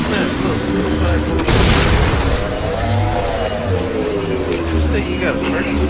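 Turret fire in the Halo 4 campaign, a single heavy boom at once followed by a sustained droning whir, with game sounds running throughout.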